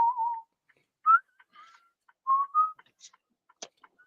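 Short whistled notes, wavering and separated by pauses, sounding close and fairly soft, with a few small clicks in between.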